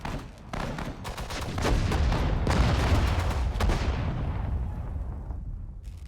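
Artillery and small-arms fire rumble and crack from battlefield units in Sudden Strike 4 at the Battle of Stalingrad, a dense barrage of booms and shots swelling midway, then fading as the high crackle thins out.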